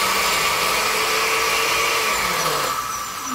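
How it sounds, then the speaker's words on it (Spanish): A kitchen blender chops cauliflower into rice-sized bits, a steady loud motor whir with grinding texture that holds throughout and eases slightly near the end. "aquí está la licuadora, se echa un poquito de esto"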